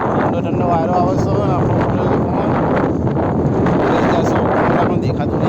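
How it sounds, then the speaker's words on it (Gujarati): Strong, cool wind buffets the microphone beside a swollen river, a loud continuous roar with rustling texture, and people talk underneath it. "ઠંડો ઠંડો વાયરો આવે છે."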